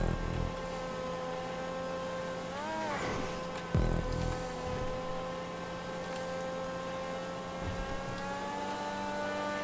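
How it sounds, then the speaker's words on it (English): An X80 Proto race car engine in GTA 5 Online holds a steady high drone with a couple of brief pitch swoops and revs, moderately quiet and with no talk. "You can kind of hear it affecting the engine."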